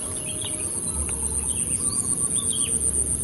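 Shrike calls near its nest, heard as scattered thin chirps and short squeaky notes over a steady insect buzz and a low rumble of outdoor ambience.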